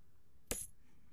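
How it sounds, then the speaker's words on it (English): A knife stabbing into European 4-in-1 chainmail gives one sharp, bright metallic clash with a brief jingle of links. It rings out alone against a quiet background and fades quickly. "This is piercing with a knife against European 4-1."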